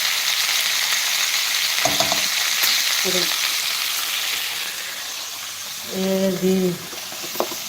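Potatoes frying in a pan with turmeric and chili powder, a continuous bright sizzle with a couple of short voiced sounds and a brief louder stir near the end.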